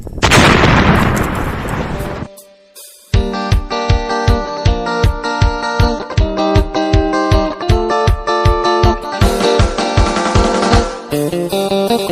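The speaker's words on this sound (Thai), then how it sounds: "ฮ้ยระเบิดระเบิด" A loud roaring blast bursts out at the start and fades, followed after a short gap by a steady pulsing, rhythmic beat.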